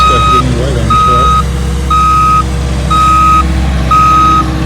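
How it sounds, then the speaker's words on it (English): Reversing beeps from trucks backing up to each other during an old sawmill cleanup, five evenly spaced loud tonal beeps over a steady low engine rumble, close by. "Backing the trucks up to each other."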